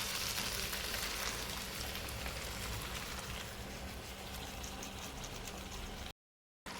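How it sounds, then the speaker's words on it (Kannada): Masala sizzling and crackling on a hot tawa for a disco fish fry, a dense steady hiss close up, cutting out briefly near the end. "ನೋಡಿ ಮಸಾಲೆ ಎಲ್ಲ ಒಳ್ಳೆ ರೀತಿಯಲ್ಲಿ ಫ್ರೈ ಆಗಬೇಕು."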